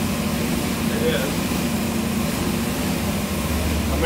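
A 427 engine idles on a dyno, giving a steady, continuous low mechanical drone with a hum that stays even throughout.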